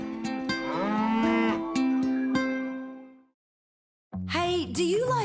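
Free-grazing dairy cows moo in long, deep, drawn-out calls, loud and close, with a short silence before another moo starts; no talking.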